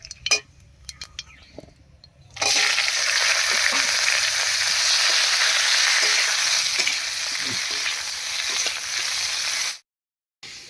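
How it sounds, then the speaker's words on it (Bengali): Cauliflower and potato drop into hot mustard oil already tempered with whole cumin and bay leaf, setting off a loud, steady sizzle that lasts about seven seconds before stopping abruptly. "ফোড়নটা ভাজা হয়ে গেছে এর উপরে দেবো ফুলকপি আর আলু"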